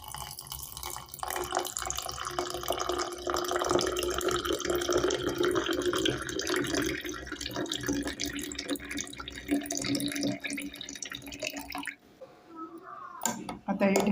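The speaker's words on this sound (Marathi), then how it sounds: "थंड पाणी घालूया" Cold water pours steadily into a glass of mango panha mixed with soaked sabja seeds and mint leaves, a continuous trickling splash that stops abruptly near the end.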